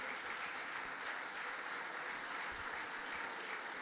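Faint, steady applause from the crowd at a FISI Veneto fair-play sports awards event, even and distant throughout.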